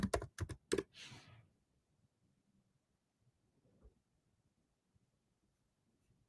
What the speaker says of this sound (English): So I'm gonna type Kedro MLflow UI again.